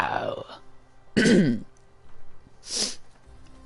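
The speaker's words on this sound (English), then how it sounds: "Sorry for the loud noise. I was clearing my throat." A streamer loudly clears their throat in one harsh burst, close to the microphone, between short bits of game dialogue and a single spoken word.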